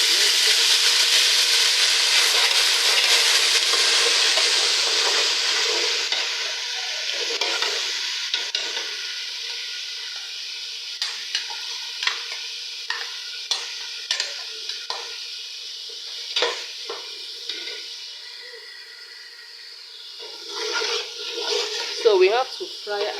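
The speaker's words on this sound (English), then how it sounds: "So we have to fry our tomato for like some minutes" Tomato and onions fry in a pot with a loud, steady sizzle that gradually fades, then light stirring clinks and scrapes come through while the hiss continues more quietly.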